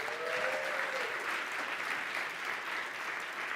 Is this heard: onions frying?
no